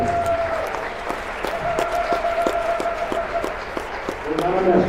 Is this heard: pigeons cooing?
no